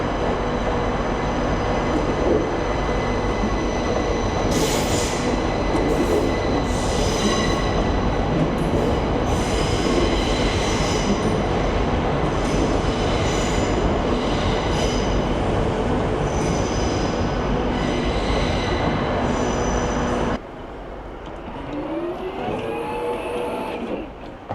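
A loud, continuous rumble of a moving train with rattling carriages and squealing wheels, then a quieter, calmer interior with faint creaks near the end.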